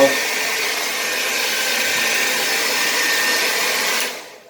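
A blow dryer runs with a steady, loud whooshing roar, then cuts off near the end and fades out.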